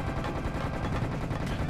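Enemy gunfire in Serious Sam HD: The Second Encounter on hard mode, a dense, loud, continuous rattle of rapid shots filling the moment with no gaps.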